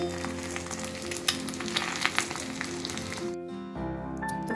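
An egg fries in a pan as it is cooked into a poach, with a moderate, crackling sizzle over a faint steady tonal hum. The sizzle thins and then changes near the end.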